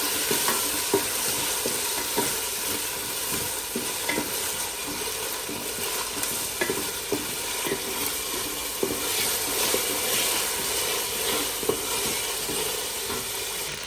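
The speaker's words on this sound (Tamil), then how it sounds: "பாதி வதங்கின பிறகு இஞ்சி பூண்டு விழுது சேர்க்கலாம். நல்லா மிக்ஸ் பண்ணி கொடுக்கலாம், பச்சை வாசனை போகிற வரைக்கும்." Onions and ginger garlic paste sauté in a pan for vangibath with a continuous sizzle. A spoon scrapes and stirs now and then, the frying stays close and steady, and no one speaks.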